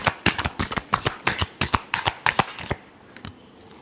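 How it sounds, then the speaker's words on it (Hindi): A deck of tarot cards is shuffled close up, a rapid run of crisp riffling slaps for nearly three seconds before stopping, leaving only faint room sound. "last shuffle"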